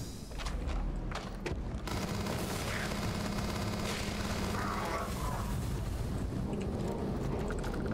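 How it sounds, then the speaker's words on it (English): Pistol gunfire in the Starfield video game, with dense, continuous game noise and rapid crackling shots running the whole time, loud and busy, with no clear talking. "My pistols do such little damage."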